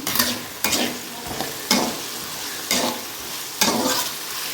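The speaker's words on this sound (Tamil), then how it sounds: "இப்போ இதை நம்ம நல்லா ஃப்ரை பண்ணி விட்டுப்போம்" Onions and green chillies fry in a pan with a loud hiss, broken by about five sweeping stirs that scrape at regular intervals.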